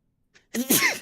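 A single loud, close sneeze bursts out after a faint short breath, ringing briefly before cutting off, with no talk around it.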